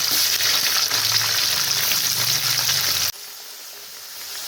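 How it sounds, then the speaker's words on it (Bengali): Potatoes frying in hot oil in a home kitchen while being browned for chicken fry biryani, a steady dense sizzle for about three seconds that then cuts off abruptly to a much quieter background. "আলুগুলো এইভাবে চিকেনের মতো মানে লাল লাল করে আমি ভেজে নেব"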